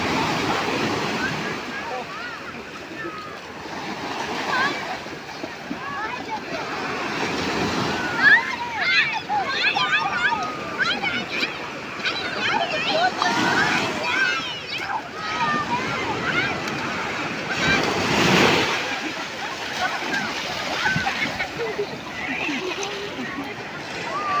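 Ocean waves wash onto a beach in repeated surging swells, with wind buffeting the microphone and people talking over the surf.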